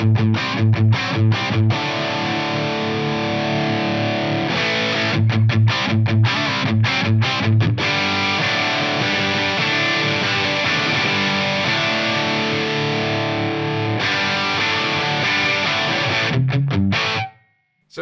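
Heavily distorted electric guitar through a Marshall JMP-1 preamp with increased gain, loud and close, with choppy stabbed chords at first, then long sustained ringing chords, ending abruptly.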